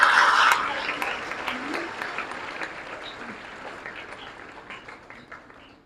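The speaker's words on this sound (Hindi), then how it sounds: "तालियां बजाएं।" Audience applause at a career-guidance event, a burst of clapping that starts strong and then fades out gradually, with scattered individual claps trailing at the end.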